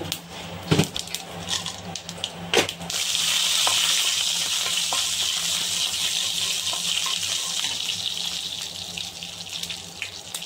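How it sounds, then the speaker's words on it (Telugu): Mustard seeds, cumin, urad dal and chana dal hit hot oil for a tempering, sending up a steady loud hiss after a few clattering knocks, with no voices. "ఆయిల్ హీట్ అయిన ఫ్రెండ్స్, ఇప్పుడు కొద్దిగా ఆవాలు వేసుకోవాలి."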